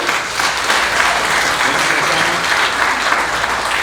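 An audience at a business talk gives a sustained round of applause for an introduced speaker, dense clapping from many hands at steady loudness throughout, near and full.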